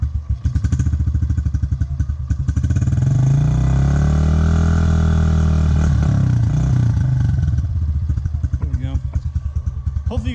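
A 2015 Honda CRF110 dirt bike engine turns over on its electric starter and catches, then runs loud and close with a steady, rumbling idle and revving throughout.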